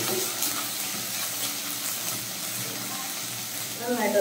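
Ground shallots sauté in a pan for an anchovy peera dish, giving a dense, even sizzle throughout that swells slightly louder at the very end.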